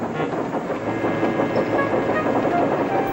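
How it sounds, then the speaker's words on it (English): Steam train engine running while shunting coaches, a steady loud rolling rumble with faint rhythmic clatter, continuous throughout and close by. "Thomas was shunting shining new coaches"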